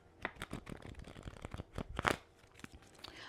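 Tarot cards being shuffled up close, a quick flurry of papery flicks and riffles with soft rustling, no voices.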